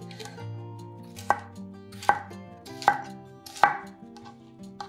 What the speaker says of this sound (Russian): Два сладких перца нарезаем произвольными, не очень мелкими кусочками.